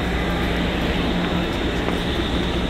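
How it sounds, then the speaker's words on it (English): Steady, dense rumble of a moving Amtrak passenger train, loud and close, with continuous rolling noise and no voices. "Come on, Marky, get on the train."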